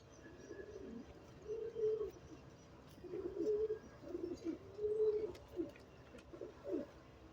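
Pigeons cooing in a loft, several soft throaty coos in short phrases, fairly close over a quiet background.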